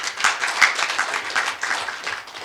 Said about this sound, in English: Please, we should clap for the government of Gambia.